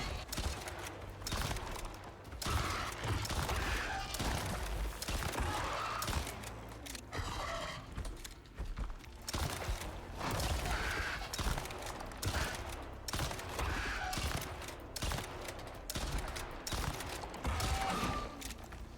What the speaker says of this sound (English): Ten shots.